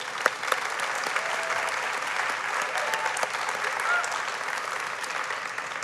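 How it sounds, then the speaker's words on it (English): Audience at a climate ideas closing plenary giving a sustained round of applause, a steady wash of many hands clapping at moderate distance with no speech over it. "I just want to have a round of applause for all of that hard work."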